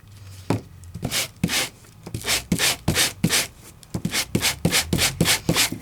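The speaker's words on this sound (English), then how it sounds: "And let's give it a sanding." Rhythmic scratchy rubbing strokes, about a dozen back-and-forth passes of a sanding tool over embossed paper, close and fairly loud.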